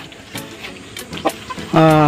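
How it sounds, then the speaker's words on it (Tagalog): A newly kept hen clucks in short bursts, ending in a louder, sustained call at close range, with faint background talk in between. "isang manok, ang ating bagong alagang manok."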